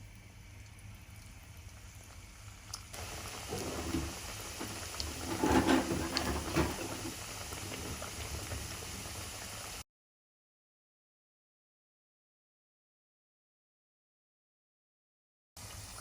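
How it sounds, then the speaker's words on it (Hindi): Samosas lowered into hot oil to fry, giving a steady fizzing sizzle that swells for a few seconds, then cuts to silence before a brief return at the end. "तेल को हमने गरम कर लिया है, अब इसके अंदर समोसा डालेंगे।"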